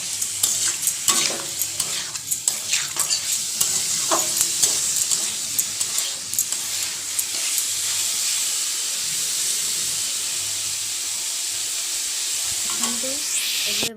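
Paneer and garam masala sizzle in a frying pan for homemade momos. A spoon scrapes and clicks against the pan early on, then a steady hiss of frying carries on alone.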